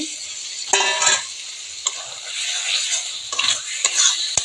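Chickpeas and peas tumble into a frying pan and get stirred, bursts of scraping and clinking over a continuous loud sizzle, coming in irregular surges.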